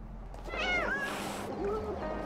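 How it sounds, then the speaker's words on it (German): A cat meows in the video game Little Kitty, Big City: a single drawn-out, rising-then-falling meow, fairly close and clear, followed by a softer short trailing call over faint background sound. "Moment, da oben ist eine Katze."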